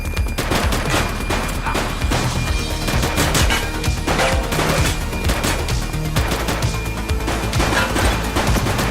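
Sustained heavy gunfire in The Precinct police action game, dense automatic volleys and crashing impacts filling the scene continuously at close range, with almost no speech.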